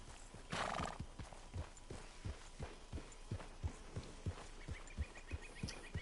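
Steady, rhythmic hoofbeats of a galloping horse in the video game Red Dead Redemption 2, close and even, with a loud whinny near the start.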